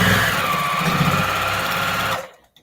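A sewing machine stitching binding onto a repurposed plate mat, a steady fast mechanical whir running for about two seconds and then stopping abruptly.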